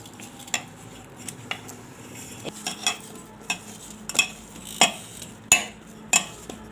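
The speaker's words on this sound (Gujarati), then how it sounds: "હવે આપણે બધું મિક્સ કરી લેવું" Puffed rice (mamra) and sugar being stirred together for vadi in a metal bowl, a series of sharp clinks and scrapes at irregular intervals, close and clear with no speech.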